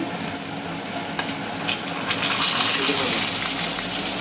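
Fish frying in oil in a pan, a dense, continuous sizzle and crackle heard up close that swells slightly louder toward the end.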